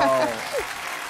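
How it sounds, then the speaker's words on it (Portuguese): Brief applause during a craft demonstration of sublimation printing on a document holder, a quick patter of clapping heard under an excited voice that fades out early. "Aplausos, que deu certo essa sublimação!"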